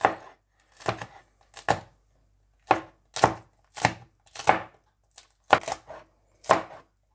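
Chillies chopped coarsely with a knife on a board, a close series of about nine crisp thuds in an uneven rhythm with short pauses, heard alone.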